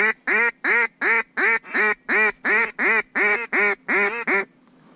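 A duck on water quacks in a rapid run of about thirteen loud, evenly spaced calls close to the microphone, then falls silent.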